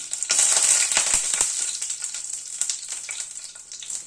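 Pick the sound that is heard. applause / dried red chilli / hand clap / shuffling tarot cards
dried red chilli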